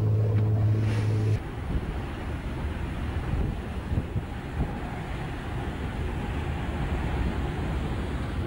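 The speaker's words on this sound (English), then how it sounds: "We're on our way out on one of the boats from Phuket." A passenger boat heading out from Phuket churns through open water, a steady low engine drone under rushing wind and waves buffeting the microphone, close and continuous after a brief louder hum at the start.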